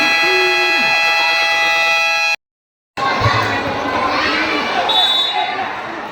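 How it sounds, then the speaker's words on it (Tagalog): A steady electronic game buzzer drones at an inter-barangay league game in Tarlac, cuts off abruptly, then an indoor crowd cheers and shouts loudly, with another brief buzzer tone near the end. "Wait for the buzzer"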